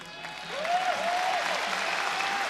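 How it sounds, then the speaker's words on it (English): A large arena crowd at a Pride fighting championship event applauds an announcement, a steady distant wash of clapping with a faint tonal sound over it. "The applause for the announcement,"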